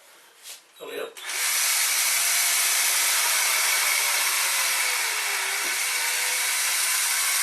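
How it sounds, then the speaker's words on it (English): A power drill whirs up after a few brief knocks and runs with a steady, loud, broadband hum that slowly sags in pitch as its power fades. "As you probably hear, drill dying."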